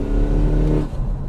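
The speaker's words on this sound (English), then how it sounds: "I just did a 400 wheel horsepower pull." A Mini Paceman JCW with AWD, tuned to about 500 hp, revs hard at full throttle near the red line, a loud sustained engine roar that drops off briefly toward the end.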